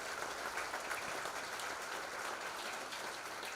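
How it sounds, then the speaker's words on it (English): Steady applause from an audience at a middle school spring band and choir concert, a dense continuous wash of clapping that holds evenly throughout with no talking over it. "Let's give them all another round of applause."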